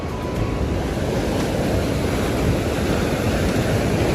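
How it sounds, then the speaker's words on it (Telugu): River water rushes out beneath the Prakasam Barrage in a constant, loud, broadband roar, with some wind buffeting the microphone and no voices. "వాటర్ మొత్తం అటువైపు నుంచి వచ్చేది కూడా అదిగోండి అక్కడ ఒక ఆఫీస్ ఉంది కదా దాని కింద నుంచి వస్తున్నాయి వాటర్"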